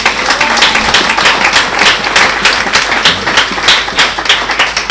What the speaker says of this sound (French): Je voudrais qu'on applaudisse encore pour cette chorale.